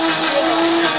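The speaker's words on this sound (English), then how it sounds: "That's a blender." A blender spins at high speed, around 30,000 RPM, as a loud, even whirring motor whine with a steady pitched tone running throughout the short burst.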